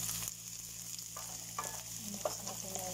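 Garlic and ginger frying in a pan while an Arabic-style cow heart and chicken liver dish is being made. The sizzle is steady and constant, with light scraping and clinks from stirring, and no voices are heard.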